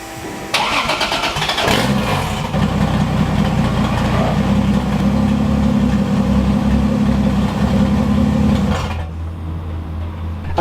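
A 1JZ engine cranks briefly, fires up and settles into a steady, loud idle, its low rumble running close and continuous before cutting off near the end, with no talking.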